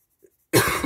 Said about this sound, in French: les allergies, ça me fait par moments des espèces de quintes de toux